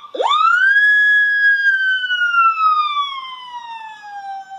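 A voice imitates a siren on her own, a long rising wail that sweeps up sharply, then holds and slowly glides downward, loud and close with no other sound.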